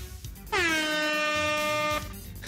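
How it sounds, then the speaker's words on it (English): A single loud air horn blast sounds from a tournament stream, a steady harmonic-rich tone held for about a second and a half, starting abruptly and cutting off cleanly against quiet background. "That's the air horn"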